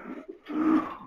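Pigeons coo inside a breeding pigeon loft for racing birds, soft throaty calls rising and swelling near the microphone with no talk.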